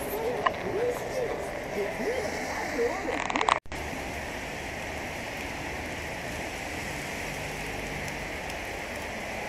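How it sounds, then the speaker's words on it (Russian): Steady heavy rain hisses in a dense, even wash in Yoshkar-Ola, with a voice speaking over the first few seconds before the downpour continues alone. "Дождь все льет и льет."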